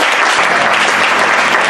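A church congregation at a Bible institute graduation ceremony applauds loudly and steadily, dense clapping filling the room without pause.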